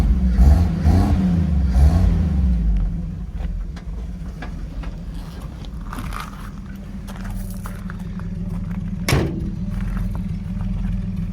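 A 1950 Chevrolet 3600 pickup with a side-exit exhaust idles steadily up close, a low continuous engine rumble with a few knocks and thumps, and one sharp click near the end.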